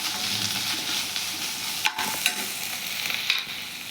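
Ginger fries in hot oil for a poori curry, a steady close sizzle broken by a few sharp scraping stirs of a spoon against the pan.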